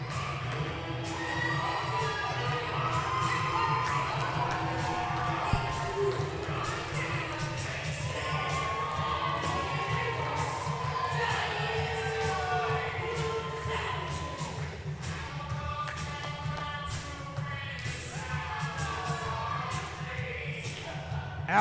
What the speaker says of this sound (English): listen to this crowd go off when he comes through that curtain